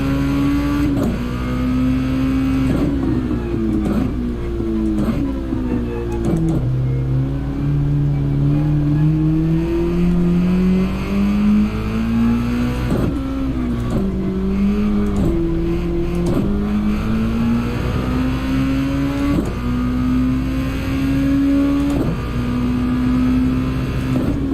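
A race car engine in Gran Turismo, during a Porsche or Toyota Gazoo race, screams continuously and loudly, its pitch climbing and then dropping sharply at each upshift, several times in succession.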